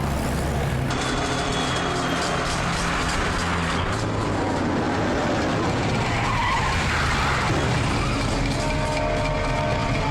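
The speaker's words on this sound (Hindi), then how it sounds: "कोई गाड़ी हमारा पीछा कर रही है शायद।" Tyres skid and screech in a loud, continuous film car chase, engines roaring with a dense mechanical rumble throughout and almost no talk.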